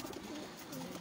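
Pigeons cooing in a loft, soft repeated throaty coos heard close and alone in a brief burst.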